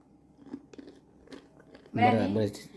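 Crispy kulkuls, fried Christmas sweets, crunch in a few small, faint bites close by, then a person talks.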